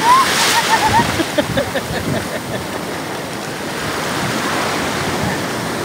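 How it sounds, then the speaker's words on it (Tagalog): Sea waves surge and wash in, a broad rushing roar with wind buffeting the microphone and a few faint voices over it. "Ayan na naman yung alon!"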